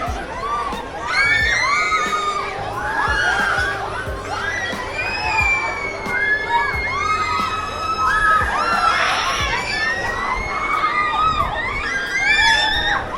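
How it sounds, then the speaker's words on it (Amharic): Children scream and shriek on a spinning amusement park ride at Bora. The chorus of high-pitched, excited cries rises and falls continuously, fairly loud, over general crowd noise. "ጋይስ አሁን እነዚህ ልጆች እንደዚህ እየጮሁ እኔ እንዴት ነው የምገባው?"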